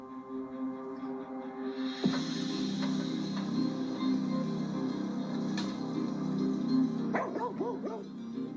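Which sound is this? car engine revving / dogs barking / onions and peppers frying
dogs barking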